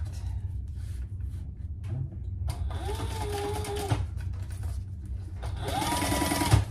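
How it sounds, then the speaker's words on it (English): A sewing machine bastes fabric flat in two loud, close runs of rapid mechanical whirring, with quieter handling noise in between and no talk. "we'll turn that and just baste it nice and flat"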